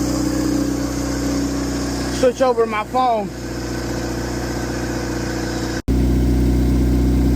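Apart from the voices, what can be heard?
Honda Integra engine running and idling after fuel pump fix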